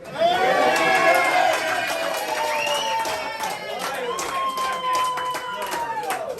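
A comedy club audience breaks into applause mixed with cheers and whoops, loud at the start and then holding as a steady wash of clapping and voices.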